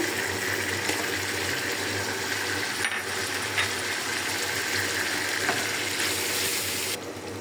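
Meat fries in a pan with turmeric and ginger-garlic paste for a vegetable khichuri, a steady close hiss of frying with faint scattered crackles and a low hum underneath.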